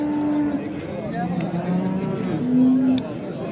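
Cattle at a busy livestock market, with long, loud close moos overlapping one another and crowd noise behind.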